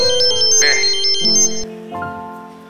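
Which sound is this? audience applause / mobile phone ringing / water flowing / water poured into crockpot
mobile phone ringing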